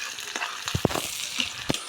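Chopped onions fry in mustard oil alongside whole spices, a soft background sizzle broken by a few sharp scraping stirs of a spoon against the pan.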